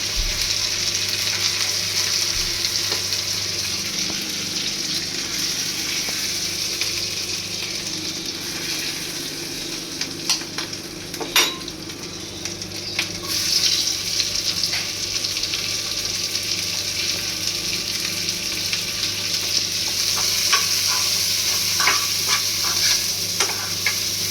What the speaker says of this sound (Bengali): মশলা মাখিয়ে ভাজা হচ্ছে